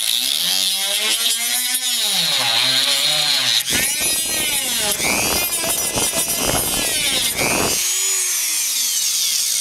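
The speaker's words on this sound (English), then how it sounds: "Just took the Dremel tool, cut across." A Dremel rotary tool fitted with an abrasive cutting wheel slices through a Hyundai Accent door panel. It gives a loud, continuous high-pitched whine that rises and falls in pitch as the wheel bites and eases off, with short grinding bursts.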